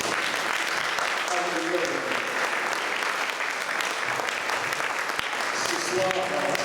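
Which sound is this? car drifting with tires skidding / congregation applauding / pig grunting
congregation applauding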